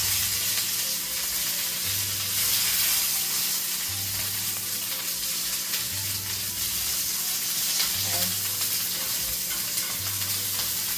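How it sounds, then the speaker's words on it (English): Spinach sizzles steadily as it heats in a frying pan with seasonings, a continuous loud fry with a low rhythmic hum pulsing underneath, no voices. "I'm just going to heat up this spinach really good, make that all melt down, separate."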